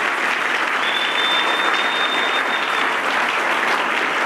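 A church congregation applauds steadily for a few seconds, a dense, even wash of clapping from many hands filling the room, with a faint high tone running through it.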